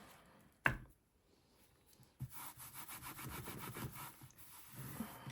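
Kitchen roll rubbed over an inked rubber stamp in a card-making craft session: one sharp tap, then a quick run of close, soft scrubbing strokes, fairly quiet and without talk.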